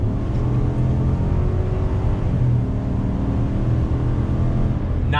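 2019 GMC Sierra Denali pickup truck climbing a hill, a steady low engine drone with road rumble holding loud and even throughout, no voices.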